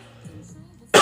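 A single sharp cough bursts out at the end after a short stretch of quiet, close and loud.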